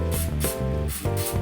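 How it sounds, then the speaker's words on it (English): Hairspray hisses from an aerosol can onto a moustache in four short, sharp bursts, layered over a low, steady tonal hum. "I'm going to use a little more hairspray, and I'm going to just spray it right on top of that here."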